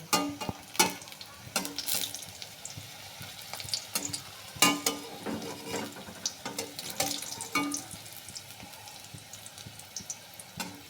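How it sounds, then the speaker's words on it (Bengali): Stuffed papad frying a few at a time in hot oil for a dal curry, giving a soft steady sizzle broken by scattered utensil clinks and splashy taps, fairly quiet and close with no talking. "অল্প অল্প করে দিয়ে আমি পাঁপড়গুলোকে ভেজে নেব"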